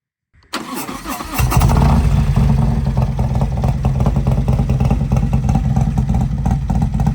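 A Harley-Davidson motorcycle with a D&D Billet Cat 2-into-1 exhaust and big bore baffle fires up from silence into a loud, deep, steady rumbling idle, close by and alone.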